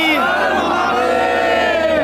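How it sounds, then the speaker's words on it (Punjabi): A crowd at a religious procession in Nurmahal roars a jaikara chant together, one loud, sustained massed shout that rises and holds for about two seconds. "ਜੈਕਾਰਾ ਲਾਓ ਜੀ ਸਾਰੇ ਜਰਾ ਜੈਕਾਰਾ ਵੀ ਬਰੰਗੀ"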